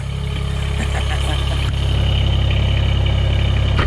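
A Mahindra eMax 20 HST diesel tractor idles in very cold weather inside a garage, a loud steady low rumble with a constant throb throughout.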